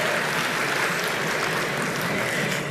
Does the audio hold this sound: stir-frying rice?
no